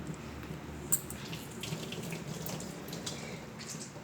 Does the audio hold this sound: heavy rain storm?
no